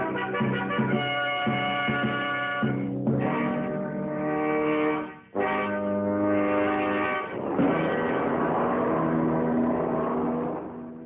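A Mercedes Grand Prix racing car, the most powerful ever built, roaring around the 14-mile Nürburgring, its loud engine howling through rising revs with brief drops at gear changes and a sharp lift-off midway.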